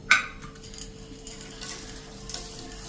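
Sugar being stirred in a pan to melt it: a sharp utensil clink at the start, then a soft sizzle with light scraping and stirring, close and steady with no voices.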